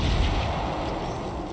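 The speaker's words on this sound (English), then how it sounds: "All of the field cannons will shoot Rome this time." One howitzer artillery shot in the strategy game Civilization 7 as it fires on Rome: a single heavy, booming blast with a rumbling tail, heard alone.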